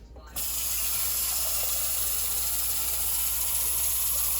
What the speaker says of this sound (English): So we pour this in a pot.